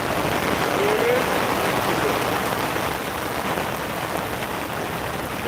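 Steady rain pours down outdoors as a dense, even hiss that lasts throughout, loud and close, with no clear voices.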